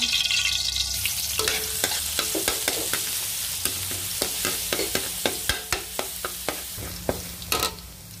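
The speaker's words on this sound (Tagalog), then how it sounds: "Igisa ko na ang bawang." Garlic sautéing in cooking oil, an even frying sizzle broken by a quick, regular series of sharp spatula taps and scrapes against the pan, close and fairly loud.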